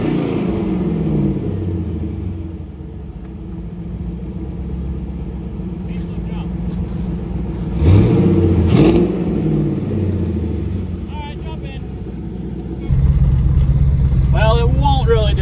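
An LS V8-swapped Toyota Prius idles and revs with a deep, loud rumbling exhaust, swelling during a blip midway and surging harder near the end, while people talk nearby.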